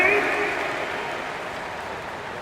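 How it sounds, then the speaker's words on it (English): A crowd at a Detroit Pistons NBA basketball game claps for the team's dance squad, a brief burst of applause fading away within the arena. "Applause for your Pistons dancing."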